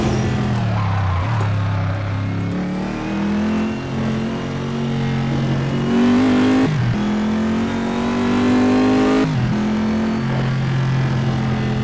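A race car accelerating in the Assetto Corsa video game, engine note climbing steadily through gears with brief dips at shifts, loud and continuous with no talk.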